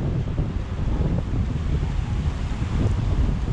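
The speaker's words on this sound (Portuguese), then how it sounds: "E tem uma força esses motores, né? Que pode jogar essa água nessa altura, né?" A motor-driven fountain in Ibirapuera Park in São Paulo sprays water high into the air, giving a loud, continuous rushing hiss that stays even throughout, with no talk.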